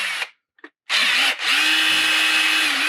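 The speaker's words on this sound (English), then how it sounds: "They've drilled through a lot of resin over the past few years." A power drill bores through hardened resin with a slightly dulled bit, starting in short bursts and then running in one loud, sustained whine close by.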